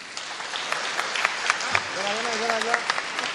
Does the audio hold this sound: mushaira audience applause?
yes